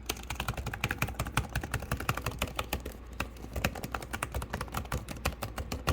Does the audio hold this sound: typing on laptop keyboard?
yes